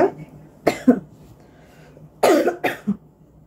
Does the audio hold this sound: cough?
yes